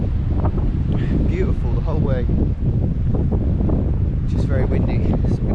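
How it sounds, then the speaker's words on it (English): Strong coastal wind buffets the microphone on a Cornwall cliff-top walk, a continuous loud rumbling roar throughout, with a person talking over it. "You can't escape the wind here."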